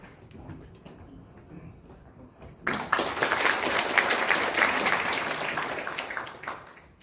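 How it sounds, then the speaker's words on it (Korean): Applause from an audience at a Chungcheong-region city and provincial council policy forum breaks out loud and sustained after a quieter start, greeting a National Assembly member about to speak. "여러분 큰 박수로 맞아주시기 바랍니다."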